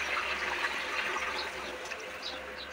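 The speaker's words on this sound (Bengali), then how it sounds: "এবার আমি এটা দিয়ে দেবো জল" Water poured steadily into a pot of chicken pieces for Kolkata-style chicken biryani, a soft continuous splashing rush lasting a few seconds, close and moderately quiet.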